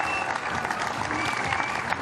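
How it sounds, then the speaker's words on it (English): Crowd applause at a STIHL Timbersports award ceremony for the 2021 Australian Trophy and Women's Australian Championship, a steady, fairly distant wash of clapping that holds evenly throughout. "Alrighty, ladies and gentlemen, in 2nd place, an even bigger round of applause, please, for Jody Butel."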